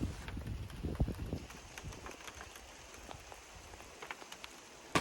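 Rain falls on a campsite in Algonquin, pattering steadily on the tent and hammock area with scattered louder drop hits, fairly faint and without voices.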